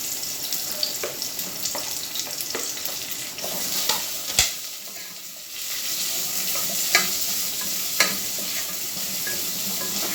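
Ginger and onion sautéing in a pan for ginataang kalabasa with zucchini, a close, steady sizzle broken by spatula stirring scrapes and an occasional sharp clack.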